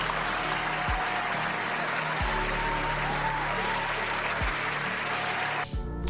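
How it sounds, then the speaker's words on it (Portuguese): Dense, steady applause from an audience, sustained for several seconds with a few low thumps underneath, cutting off abruptly near the end. "palmas pro cara que pensou nisso."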